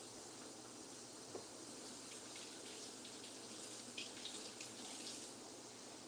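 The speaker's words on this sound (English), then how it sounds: "I'm using soap to wash my hands." Hands being washed with soap under a running tap in a home kitchen, a steady loud rush of water with faint splashes and small shifts as hands move through the stream.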